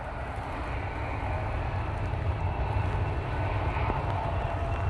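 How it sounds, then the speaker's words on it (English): A Jet2 Airbus A321ceo on its takeoff roll at windy Manchester Airport, its engines a steady, broad roar at moderate distance with wind noise underneath and no speech. "Jet2 A321 CEO now on the roll."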